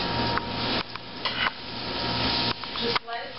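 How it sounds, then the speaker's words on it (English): Flounder fillets saute in a pan, a dense continuous sizzle close up, interrupted by a few brief utensil clinks and stirring scrapes. "the fish is starting to get sauteed"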